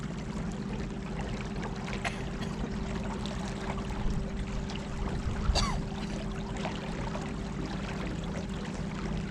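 Electric trolling motor with 50-pound thrust pushing a boat on the Colorado River near Hoover Dam, a steady low hum running throughout beneath continuous water swish and trickle, with one brief splash near the middle.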